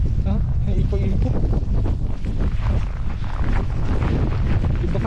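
Strong wind from a winter storm in Canada roars and buffets the microphone in a dense, continuous rush, while people talk under it.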